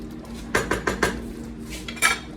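A spoon knocks against a pot while stirring cooking apricot lavender jam, four quick clinks in a row followed by a pause and one more metallic clatter, close and clear.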